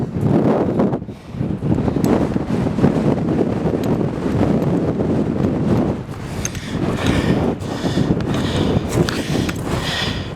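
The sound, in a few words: strong wind on a volcano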